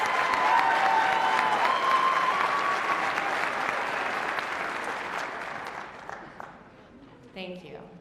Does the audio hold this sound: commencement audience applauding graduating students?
yes